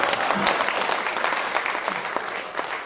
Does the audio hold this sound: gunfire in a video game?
no